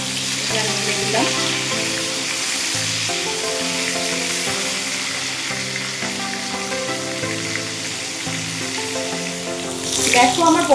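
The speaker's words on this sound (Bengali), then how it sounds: "আমার পটলগুলো খুব সুন্দর ভাজা হয়ে গিয়েছে" Pointed gourd pieces coated with turmeric fry in oil with a loud, continuous close sizzle that holds steady. A low voice sits faintly underneath, and the crackle flares briefly near the end.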